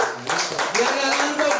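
Congregation at a Christmas worship service clapping hands, a dense steady patter of many hands filling the room, with voices talking over it.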